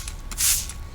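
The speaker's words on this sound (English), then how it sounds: "and I spray it a couple times" A single quick hiss of a spray bottle misting water, a short burst of bright noise in an otherwise quiet room.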